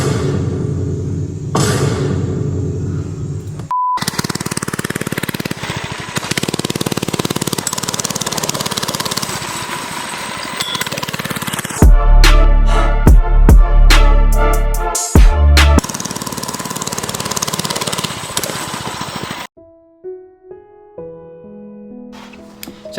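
Motovox mini bike ride during wheelie attempts, the small engine revving loudly and steadily up close, with a harsh rattling surge midway, then cutting off to quiet.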